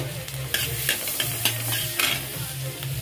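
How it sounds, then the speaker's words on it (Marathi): Green chillies fry in butter in a pan with onion, a steady close sizzle broken by several sharp stirring scrapes and clinks over about three seconds, with no voices. "बटर घेतल्यानंतर यामध्ये आपल्याला हिरवी मिरची टाकून घ्यायची"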